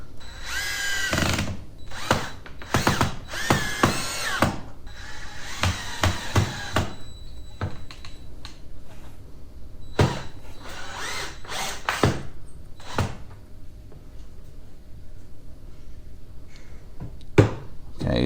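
Drilling into wood while building a shoe rack: several short bursts of a power drill, close and fairly loud, separated by pauses, with some scraping and clattering of tools in the gaps.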